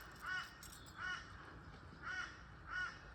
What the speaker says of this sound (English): These crows.